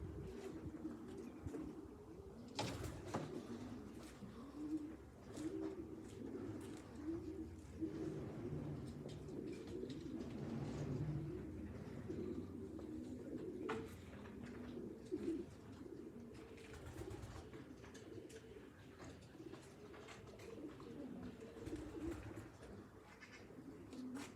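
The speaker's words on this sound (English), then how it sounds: "Pigeons in there." Pigeons coo at a race venue beside a tree, a steady low murmur of several birds running throughout, moderately faint and continuous with no clear speech over it.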